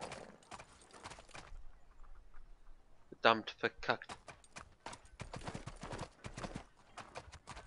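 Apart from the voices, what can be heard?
horse hooves clip-clopping in the video game Six Guns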